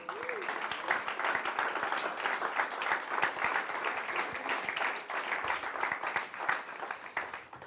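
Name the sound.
applause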